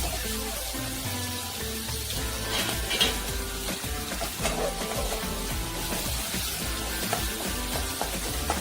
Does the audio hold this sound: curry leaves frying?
yes